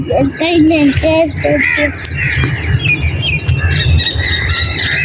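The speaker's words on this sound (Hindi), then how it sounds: "कौवे भी उड़ रहे हैं।" Several crows caw and squawk loudly nearby, harsh repeated calls overlapping through the whole stretch while people talk over them.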